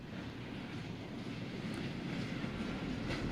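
Train travelling in the visual novel game Wanderlust Travel Stories: a steady, continuous low rumble of rolling carriages, moderately loud and unbroken for the whole stretch, with no voices.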